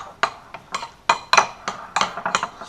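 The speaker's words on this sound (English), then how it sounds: "So I'm just going to mix this in." A spoon scrapes and clinks against a bowl while stirring brown sugar into oatmeal porridge, a series of sharp, uneven taps and scrapes close by, with no voices.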